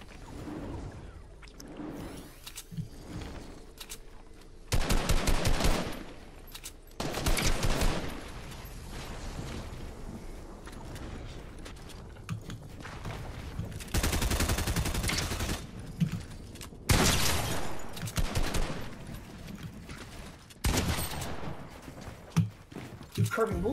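Bursts of rapid video game gunfire crackle in repeated loud volleys separated by quieter gaps, with people talking over and between the shots.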